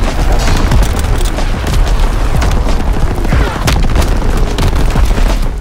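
Artillery strikes pound a battlefield in the Call of Duty WW2 video game, a loud, dense barrage of booming explosions and cracking blasts that continues without a break.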